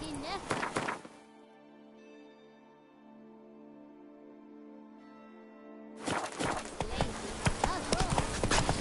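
Hooves clip-clop as the horse Roach gallops in The Witcher 3, loud and busy for the first second, giving way to a sustained tonal hum, then returning as rapid, close hoofbeats over the last three seconds.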